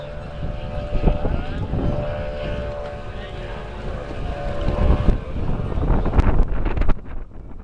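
A radio-controlled model Fairey Swordfish biplane in RAF roundels flies at an RC air show, its engine droning steadily amid gusty wind buffeting the microphone, with a commentator talking over it throughout.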